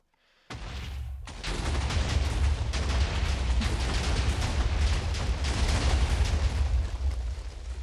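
TNT cannon exploding in Minecraft: after a brief pause a sudden blast erupts, then a dense, continuous roll of rapid overlapping explosions follows, loud and close, with no talking.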